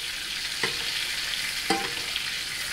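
A ribeye steak sizzles steadily in hot oil and butter in a very hot pan, a continuous crackling hiss, with two brief scraping clinks as it is moved.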